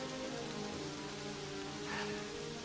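Steady rain in a video game falls in a dense, even hiss, constant and enveloping with no voices over it.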